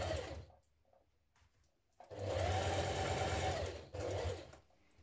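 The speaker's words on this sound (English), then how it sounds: "I would suggest sewing that with it facing downwards towards the plate" A sewing machine runs a seam along a dress neckband, a close, steady mechanical hum in two bursts, a longer run and then a short one, separated by quiet pauses.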